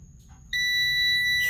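An Aneng ST184 clamp multimeter sounds its continuity test beep, a single loud, steady high-pitched tone starting abruptly and holding about a second.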